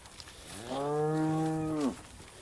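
A single cow on a drought-stricken farm lets out one long, close, sustained moo lasting about a second, rising at the start and cutting off sharply, with quiet outdoor background before and after.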